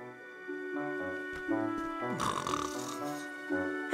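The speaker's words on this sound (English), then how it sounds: "the one I found sounds like it's snoring." A conch shell in the Nelly Cootalot: The Fowl Fleet adventure game that gives off snoring, with repeated rasping snores in a slow rhythm set against soft tonal game music.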